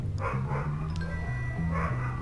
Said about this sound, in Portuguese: Olha os cachorros piruleto